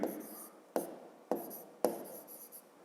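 A pen writes a math answer on paper in four short scratching strokes, close and quiet, with no talk.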